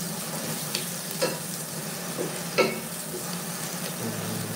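A wooden spoon stirs and toasts ingredients in a pot for mung bean stew, with soft scraping strokes and occasional knocks against the pot over a quiet, steady sizzle.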